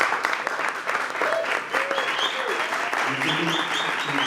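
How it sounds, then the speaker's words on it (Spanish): An audience gives warm applause at a literary interview about a Dominican book, a steady patter of clapping with voices calling out and chattering beneath it. "Vamos a darle un aplauso."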